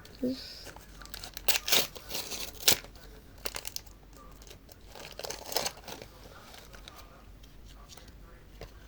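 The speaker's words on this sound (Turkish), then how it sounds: "Şimdi üçüncü kutumuzu açıyoruz" Football trading card packs being pulled from a box and opened, with bursts of crinkling foil and quick tearing that come in short, clustered flurries close to the mic while a person talks over them.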